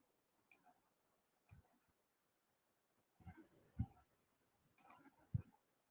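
Faint computer mouse clicks on a link, a handful of sharp, isolated clicks spread over several seconds in a quiet room, with no talking.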